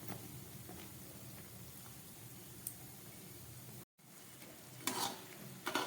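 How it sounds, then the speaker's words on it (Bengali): Semolina sweets fry in oil on a low gas flame, a faint, steady sizzle with a brief gap and a few soft stirring clatters near the end. "গ্যাসটা একদম কমিয়ে ঘুরিয়ে ফিরিয়ে আমি মিষ্টিগুলোকে ভেজে নিলাম"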